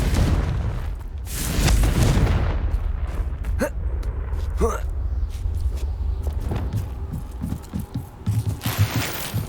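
Confringo fire-spell blasts in Hogwarts Legacy combat, heavy booming bursts over a constant rumble of battle noise, with a voice calling out spell names.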